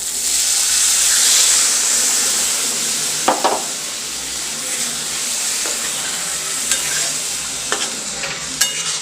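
Cashew curry masala thinned with a little water and simmering in a pan over a low gas flame, giving a steady soft sizzle with occasional clinks and scrapes of stirring, close and alone.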